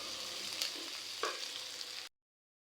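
Green chillies and onions frying in a pan for a village-style chicken curry, a steady soft sizzle with a couple of brief stirring scrapes, continuous for about two seconds before cutting to silence.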